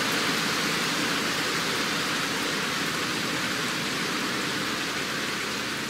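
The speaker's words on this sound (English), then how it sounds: "Oh, hey, rain's clearing up, maybe." Steady rain in the Roblox game Greenville, a dense, even hiss of falling water that holds at a constant loud level throughout with no voices.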